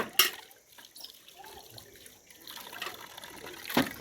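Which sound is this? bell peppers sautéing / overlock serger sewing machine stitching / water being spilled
water being spilled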